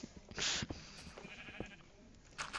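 Minecraft sheep bleat a few times in short, fairly quiet bursts over a soft game background.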